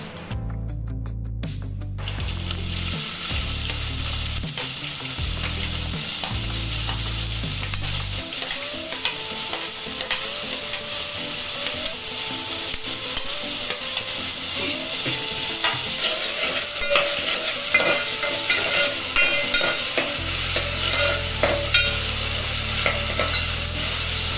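Cumin, mustard seeds and onion fry in hot oil for dal khichdi, a loud, constant sizzle and hiss close by, with a spoon scraping and stirring in bursts near the start and end.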